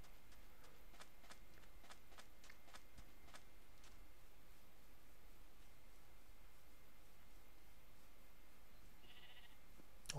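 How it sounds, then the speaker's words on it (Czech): Sheep bleating in a Minecraft game, a short faint bleat near the end over quiet game ambience with a run of soft clicking ticks earlier. "Ovce."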